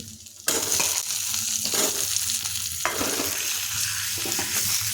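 Boiled potatoes hit a hot pan with turmeric on low heat and burst into a loud, steady sizzle, broken by scraping stirs and a few sharp bursts as they are mashed and fried.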